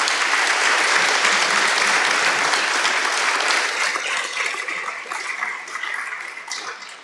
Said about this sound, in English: So I would like to invite the public to give a broad applause to our panelists.